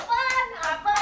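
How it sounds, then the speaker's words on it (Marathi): Hand clapping at a family bhel party, short bursts of claps mixed with tonal voices, close and fairly loud. "टाळ्या टाळ्या त्यासाठी टाळ्या."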